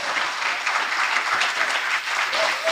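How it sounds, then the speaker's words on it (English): Audience applause for an honored guest speaker at a national independence lecture, dense sustained clapping from a crowd heard throughout, steady and fairly loud. "I do believe our honored guest and speaker deserves another round of applause"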